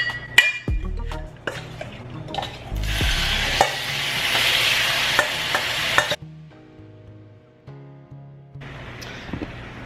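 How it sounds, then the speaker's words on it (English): Beef frying in heated oil in a pan on a stove over medium heat for a noodle stir fry, with a steady broadband sizzle, scattered clinks and stirring scrapes, the sizzle dropping out partway through before resuming. "Alright guys, so our beef is on the stove. It's cooking."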